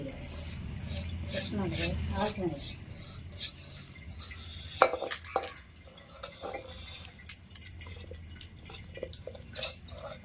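Salt is ground for a cucumber and dried chili chutney, with a rough rhythmic grinding and rubbing that gives way to scattered clinks and scrapes on a hard surface, with someone speaking over it.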